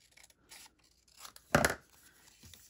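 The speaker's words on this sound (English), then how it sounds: "So I'm going to cut a little bit off." Scissors cut a small strip off material for a handmade travelers notebook, with a few soft snips and rustles leading to one louder, close cut before a quiet handling sound.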